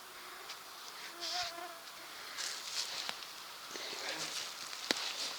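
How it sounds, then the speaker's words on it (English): Mosquitoes whine faintly and intermittently in the woods at a B-47 bomber crash site, with thin tonal buzzes drifting in and out over quiet rustling and a few soft taps. "And the mosquitoes are just crazy in here."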